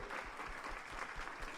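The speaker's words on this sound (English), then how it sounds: "Let's give a round of applause to Anshi, Raquel, DJ, and Alex." A short stretch of audience clapping after a community program in Boston, a moderately quiet, even patter of many hands, heard alone without voices.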